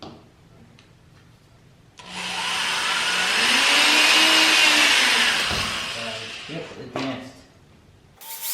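A power drill with a dull bit bores a hole in a Subaru WRX fender for a vent install, a loud sustained grinding whir of several seconds that rises and fades, framed by quieter shop noise.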